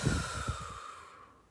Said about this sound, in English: and breathe out all that doubt and limit.